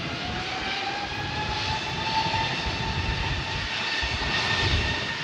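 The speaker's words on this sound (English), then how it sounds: "we got Spirit Wings 3831 heading to Atlanta Hartsfield Jackson on an A320 Neo" A Spirit Airlines Airbus A320neo rolls for takeoff on runway 8, a steady, broad jet engine roar heard from a distance, holding at a constant level without any voices.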